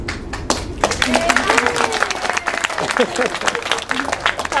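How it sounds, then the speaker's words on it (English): An audience at a children's theatre class performance claps, with scattered sharp claps building into a moderate round of applause that thins out toward the end, with voices talking over it. "We can save our applause till the end."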